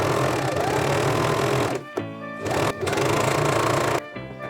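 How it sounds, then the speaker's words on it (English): A sewing machine stitches the side seams of a button-up dress in two bursts of rapid, steady whirring, close and fairly quiet, with a short pause between them and a stop at the end. "Match the side seams and stitch them right side up."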